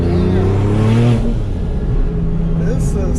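A tuned 1000 hp Porsche 997 911 Turbo accelerating hard, its engine note climbing loudly and close, then easing off, with people talking over it inside the car.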